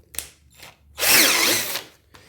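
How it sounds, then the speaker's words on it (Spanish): A power drill fitted with a drill bit, not yet sharpened, spins up for about one second of loud whirring drilling, preceded by a few soft clicks and handling knocks. "Voy a iniciar con esta broca a ver cómo nos va"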